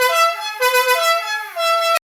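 A portable horn made from a cordless drill blares a loud sustained honk, wavering in pitch and briefly dipping before resuming, then stopping abruptly.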